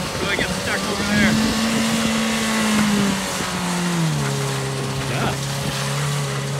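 A Mazda 3 with one-wheel drive, stuck in grass, revs its engine in sustained droning pulls that step down in pitch, loud and continuous, with voices talking over it.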